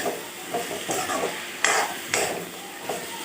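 A spoon stirs pumpkin and potato pieces in a pan of curry with ginger and garlic, making a handful of separate scraping strokes over a soft sizzle, close and fairly loud.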